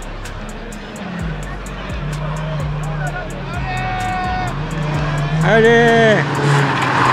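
Race cars on a circuit half asphalt and half dirt pass by with steady engine drone and rising, shifting revs, loud and close, while a crowd murmurs and a voice shouts.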